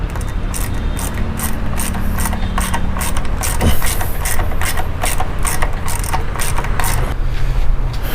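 A ratchet wrench tightens a nut on a Royal Enfield Himalayan motorcycle, giving rapid, repeated clicking bursts close by with brief pauses between strokes, heard without talk.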